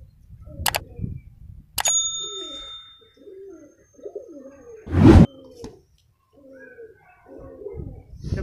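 Pigeon cooing softly in short low murmurs near a household pigeon loft, broken by a few sharp metallic clinks and a loud flutter-like burst midway.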